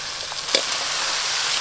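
Chopped young bottle gourd drops into a hot pan with cumin powder and pepper on a rural clay stove, giving a brief burst of sizzle that settles into a steady, close frying hiss.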